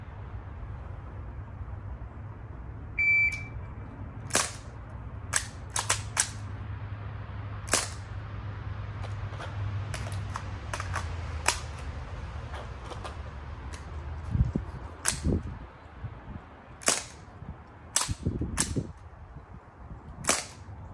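A short barrel rifle BB gun fires repeatedly in sharp, loud cracks, first spaced about a second apart and then in quicker bursts, over a steady low rumble of background noise.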